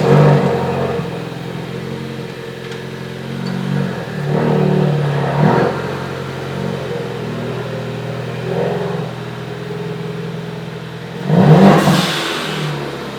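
Ford Focus RS fitted with a Velossa Tech Big Mouth intake, engine droning with several revving surges and a loud induction roar near the end, no talking.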